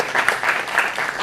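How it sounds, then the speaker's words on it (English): An audience at a film festival talk applauds, a dense patter of many hands clapping steadily and fairly loudly throughout the brief moment. "if you're fans of Nimisha, Roshan, Dibyendu, you want to give them a round of applause as well because they're absolutely stellar."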